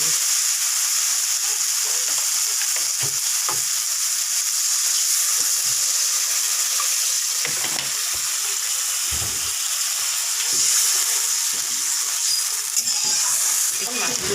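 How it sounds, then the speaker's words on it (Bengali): Water pours into a pan of frying fish curry made with bata fish, the steady hiss and bubbling sizzle running loud and continuous throughout, with a few faint clinks and stirring knocks. "অল্প হালকা জল দিয়ে দিচ্ছি একটু কিছু সময় এটাকে কষিয়ে নিয়ে যাবে"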